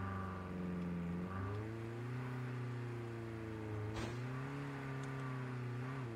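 A car in the video game Call of Duty Blackout drives and revs, its steady engine drone climbing in pitch as it accelerates, then dipping and rising again. The sound is continuous and close, with no talking.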